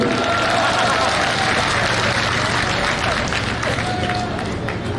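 A large audience at a farmers' conference claps continuously, a loud, dense wash of applause with crowd murmur underneath that eases slightly toward the end.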